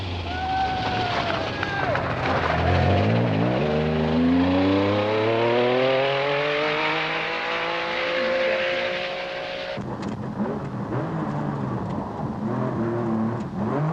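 A 1986 Circuit of Ireland rally car stuck in second gear roars past loudly, its engine pitch climbing and holding high before cutting off abruptly, with wind buffeting and a commentator talking over it.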